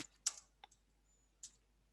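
A few sharp, quiet computer mouse clicks spaced apart in a quiet room during an online event presentation, no talking.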